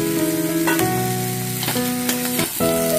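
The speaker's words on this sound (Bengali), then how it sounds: "ভালো করে ডালটার সাথে ঝিঙেগুলো ফ্রাই করে নিচ্ছি।" Ridge gourd pieces frying with moong dal in a pan, a steady loud sizzle broken by several scraping stirs, with no talk.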